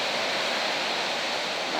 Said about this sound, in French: là, il y a une belle série de vagues qui arrivent